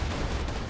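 A grenade blast in the video game Borderlands 2, a dense, steady roar of explosive noise filling the whole short moment without a break, no voices over it.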